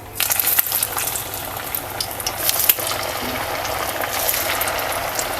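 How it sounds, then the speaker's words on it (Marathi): Crispy Marathi vadis drop one by one into hot oil, which crackles and bubbles continuously with a dense, fairly loud frying hiss and a few sharper pops. "तर आता आपण हे तेलामध्ये सोडूया एक एक एक एक"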